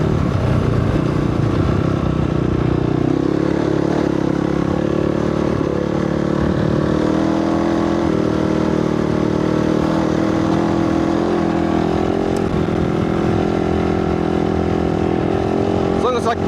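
A dirt motorcycle's engine drones loud and steady while its rear wheel spins in desert sand, the revs rising and falling slightly over a sustained run with faint clatter, and someone talks over it.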